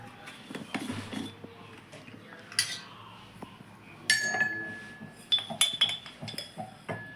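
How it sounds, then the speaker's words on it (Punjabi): Black pepper and fennel being pounded coarsely for a Rajasthani paratha, metallic clinks and knocks striking at an uneven pace, some hits bright and ringing, with a voice speaking softly underneath. "ਇਹਨੂੰ ਆਪਾਂ ਦਰਦਰਾ ਜਿਹਾ ਕੁੱਟ ਲਾਂਗੇ ਤੇ ਹੁਣ ਤਾਂ ਆਪਾਂ ਕਰਦੇ ਆਂ ਕੁਟਾਈ"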